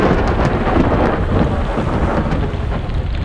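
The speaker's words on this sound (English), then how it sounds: "This wasn't a dangerous storm, except that the sheet rain made it impossible to see and," Thunder rumbling through a Croatian sailing storm with heavy sheet rain, a steady loud wash of rain and low rolling thunder filling the whole stretch without pause.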